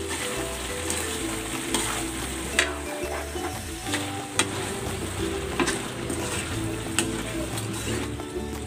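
Sliced pork belly frying in a pan with green chilies and bird's eye chilies for laing made with fresh taro, a steady loud sizzle with occasional clinks of stirring, close up, and no talking.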